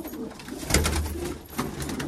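Pigeons coo softly at close range, with a few low, throaty calls rising out of faint background rustle.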